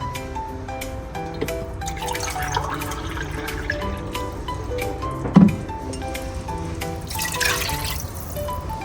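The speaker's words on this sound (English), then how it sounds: "I'm adding about 2 cups of water." Water poured into a pot of Kerala fish curry, a soft continuous liquid trickle and splash running steadily at close range, with a brief louder splash partway through.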